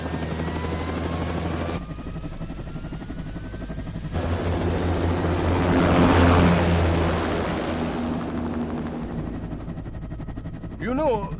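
An aircraft lifts off in Metal Gear Rising: Revengeance on PS3, a loud steady rotor-like drone with whining tones that swells toward the middle and holds, with a brief synthetic chirp at the end.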